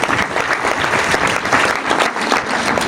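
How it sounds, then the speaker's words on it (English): Audience applause at an Iganga SS careers day honouring the board of governors: dense, steady clapping from a large crowd, loud and continuous throughout with no talk on top. "Can we clap for our board?"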